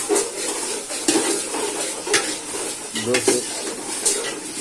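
Turmeric being stirred into a pot of cooking dal for khichuri, with quiet scraping and clinks of a spoon against the pot over a soft sizzle, recurring at irregular intervals.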